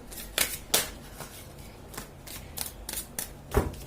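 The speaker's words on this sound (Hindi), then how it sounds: "एक दो कार्ड्स और निकाल लेते हैं" Tarot cards being shuffled and drawn, giving a series of crisp riffling bursts and soft card slaps at an irregular pace, close up and fairly quiet.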